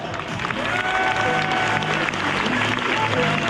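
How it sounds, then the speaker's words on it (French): An audience applauds steadily for several seconds at a live show with a challenge, the claps dense and continuous, with a faint murmur of voices underneath. "Les applaudissements, s'il vous plaît."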